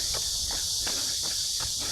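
Cicadas buzz in a dense, steady chorus outdoors on a summer run. Soft, rhythmic footstep thuds sound underneath the chorus.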